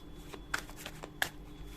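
A tarot deck is shuffled by hand nearby, producing soft papery riffles and a few crisp card snaps, quiet and alone.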